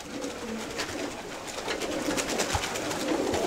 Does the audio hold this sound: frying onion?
no